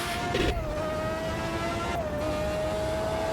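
A high-powered F1 race car engine in the racing game Automobilista 2 drones loudly and steadily, with brief pitch dips that sound like quick gear shifts, and no voices over it.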